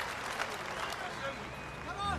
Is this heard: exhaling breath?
no